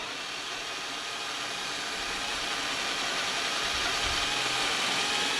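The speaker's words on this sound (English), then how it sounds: "You should drill holes as big as you can, so you want to step up your drill bit." An electric drill boring holes into a hard drive, a steady whirring motor with a constant grinding hiss throughout, close and loud with no talk.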